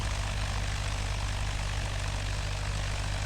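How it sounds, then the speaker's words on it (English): Propeller airplane engine drone, loud and steady throughout with a constant low throb and broad hiss, no clear rise or fade, and no voices. "I hear a plane coming upon me."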